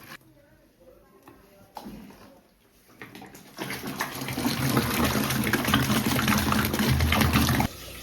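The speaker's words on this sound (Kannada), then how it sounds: "ಅದಕ್ಕೆ ಸ್ವಲ್ಪ ಮಜ್ಜಿಗೆ ಇದು ಮೊಸರು ಹಾಕೊಂಡು ಫುಲ್ ನೀರು ಹಾಕೊಬೇಕು" Water is poured into a rice, curd and buttermilk mixture in a home kitchen. Faint handling noises come first, then a loud, steady splashing pour that lasts several seconds before stopping abruptly.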